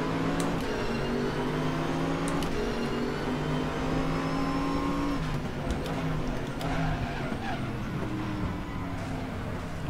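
A Mercedes SLS GT race car in the R3E racing game, driving in an ADAC GT Masters race, drones with a steady, loud engine tone that shifts pitch as it drives, with other cars mixed in.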